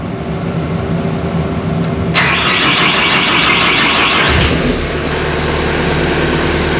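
A snow-plowing loader's engine starts up while heard from inside its cab: a steady background hum, then a sudden loud whirring roar about two seconds in that holds, with a deeper rumble settling underneath near the end.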